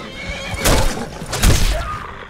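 A horse in the video game Skyrim neighs loudly twice in close succession, each whinny a bright, shaky burst, up close with no talk over it.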